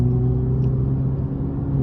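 A Toyota Camry TRD engine and exhaust hold a steady, deep, low rumble close by, with no voices.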